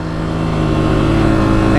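A 2024 Honda CRF250F dirt bike engine runs loud and close on a hot desert ride, its buzzing four-stroke note holding steady and swelling slightly for under two seconds.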